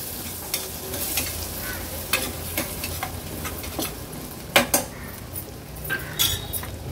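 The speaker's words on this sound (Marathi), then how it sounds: "हळद आणि मसाला तेलावर छान शिजवून घ्यायचे" Turmeric and homemade Agri Koli masala frying in hot oil: a constant hissing sizzle with a spoon scraping and clinking against the pan in irregular bursts, a few sharper knocks standing out.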